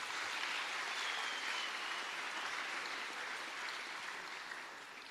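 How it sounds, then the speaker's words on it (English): Audience at a martial arts event applauding, a steady wash of clapping that holds evenly and fades slightly toward the end. "Give them a big round of applause."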